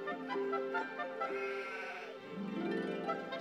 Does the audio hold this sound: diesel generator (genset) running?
no